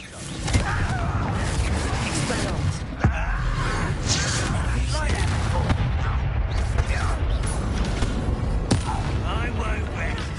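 Hogwarts Legacy Confringo blast spell explosions, dense bursts and sharp impacts amid a busy game battle soundscape, with voices talking throughout.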